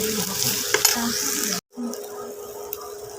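Khichuri with garam masala being stirred in a pot over the heat: a steady close sizzle with scraping and clinking of the spoon, broken by a brief silent pause.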